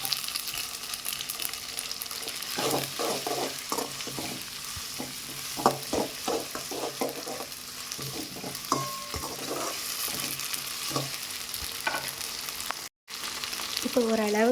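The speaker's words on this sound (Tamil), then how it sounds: "இப்போ ஓரளவுக்கு இஞ்சி பூண்டு பேஸ்ட்டும் ஸ்மெல்லெல்லாம் போக வதங்கிடுச்சு" Ginger garlic paste sautés in a pan for an oyster mushroom gravy, a steady loud sizzle broken by a run of rhythmic spatula scrapes and stirs.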